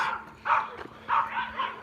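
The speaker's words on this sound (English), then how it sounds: "We got some little yappers behind us" Small dogs yapping during a neighborhood walk, two bursts of sharp barks close behind, separated by a brief lull, over quiet street ambience.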